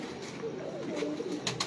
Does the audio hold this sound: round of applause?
no